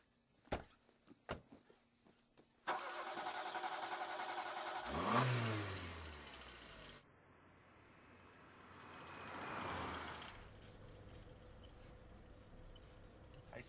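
A car engine catches and starts, then revs and pulls away. The sound swells and fades into a steady drive, with a few clicks before it and crickets faint in the background.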